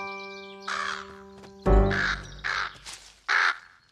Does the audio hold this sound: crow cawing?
yes